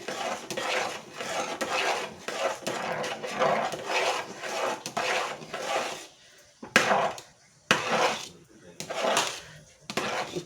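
A utensil scrapes and knocks against a pot while semolina appadalu dough is stirred, giving repeated rhythmic scraping strokes that pause briefly and then resume, close and fairly loud.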